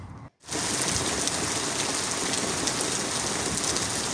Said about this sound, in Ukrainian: Нарешті дочекалися дощу.